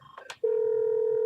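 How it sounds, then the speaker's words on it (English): A phone rings with a steady electronic tone that holds on, loud and close, after a couple of short beeps at the start. "my phone is ringing right now."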